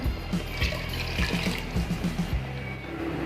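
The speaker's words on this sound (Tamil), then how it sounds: "இந்த மிக்சியை அலசிட்டு இந்த தண்ணியை நான் இதில் சேர்த்துக்கிறேன்." Rinse water from a mixer jar poured into a pot of Tamil-style mutton curry with ground masala paste, a steady close splashing and trickling for a few seconds with light clinks, no talking.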